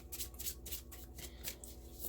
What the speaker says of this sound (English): I like to give these cards a good shuffle